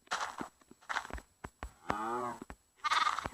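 Sheep bleat in a video game, a long wavering cry standing out in the middle, surrounded by several shorter animal calls, with more overlapping bleats and moos coming in at the end.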